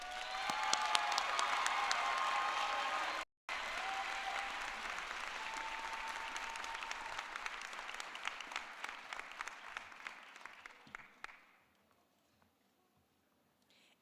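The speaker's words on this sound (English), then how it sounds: "Please join me in a round of applause to congratulate our" A large convocation crowd at the Rutgers School of Health Professions 2023 ceremony applauds the Gonfalonier, a dense, even clapping that persists for about ten seconds with a brief cut, then fades to near silence.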